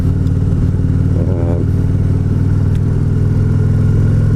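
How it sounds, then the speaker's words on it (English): A Harley-Davidson entry-level touring motorcycle engine rumbles loud and steady while riding, a continuous close drone with no talk over it. "This is an entry-level touring bike for Harley"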